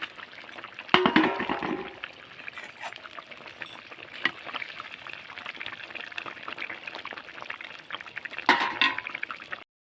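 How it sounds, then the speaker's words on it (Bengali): Fish pieces go into a boiling fish curry broth with cauliflower and potato, sounding as a few wet splashes and clinks over a low bubbling, with louder bursts near the start and end. "আমার মাছের ঝোলটা ফুটে গেছে এবার আমি মাছগুলো ঝোলের মধ্যে দিয়ে দেবো"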